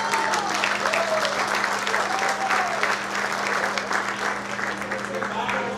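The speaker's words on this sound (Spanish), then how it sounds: "un aplauso para ella" Audience applauding Princess Chagua at an event about llanero authors and composers, steady crowd clapping with some voices and a faint whistle over a constant low electrical hum.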